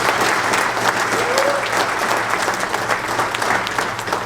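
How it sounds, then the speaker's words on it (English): Sustained applause from an audience at a 10th anniversary reunion football presentation, dense and steady throughout with no break, clapping from many hands filling the room. "So let's give them a round of applause."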